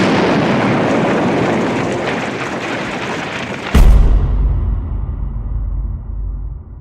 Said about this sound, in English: The Germans had placed a bomb under the bridge. When Robin set wheels on it, the bomb detonated and he went down with the bridge.